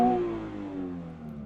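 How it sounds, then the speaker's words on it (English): A 2022 Toyota GR 86 engine after a quick throttle blip, its rev tone sliding down and settling into a steady idle hum, close and moderately loud, with no voices. "So I'll go ahead and blip the throttle."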